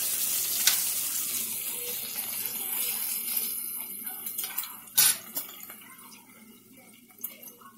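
Thick hickory bacon fries in a pan with a soft continuous sizzle, broken by sharp pops and crackles, one loud burst midway and a few smaller snaps after, fairly quiet and close.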